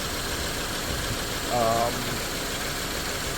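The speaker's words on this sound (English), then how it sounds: "The engine kind of changes with the pressure when you press it" A Subaru Impreza engine idles steadily while its AC system is recharged, a constant mid-pitched rumble that holds evenly throughout, with a person talking briefly over it.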